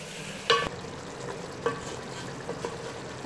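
Tomatoes cooking over a low flame in a pan for chicken jalfrezi, with a soft steady sizzle and a few light scrapes of stirring close by.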